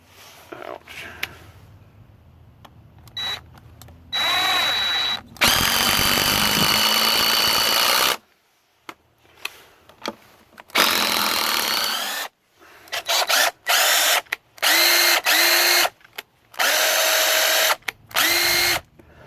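A Craftsman C3 impact driver, model 315.ID2025, whirs and rattles in repeated bursts of a few seconds each, running forward and in reverse, close and loud, with quiet gaps and faint handling noises between runs.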